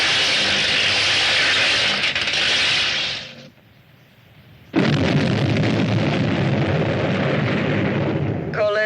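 A heavy, roaring explosion effect from a sci-fi space war film sustains loudly, fades to near silence, then bursts back in abruptly with another long, dense blast.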